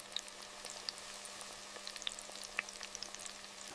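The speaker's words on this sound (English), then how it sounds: "Golden, crispy nuggets are achieved through precise frying." Chicken nuggets fry in hot oil in a factory, giving a faint, steady sizzle with scattered crackling pops.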